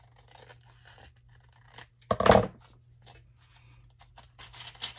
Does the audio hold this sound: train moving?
no